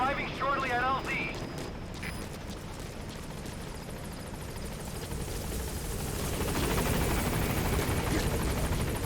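Helicopter in Metal Gear Solid 5 arriving at a landing zone, a steady rotor roar that grows louder toward the end, with a brief radio-style voice near the start.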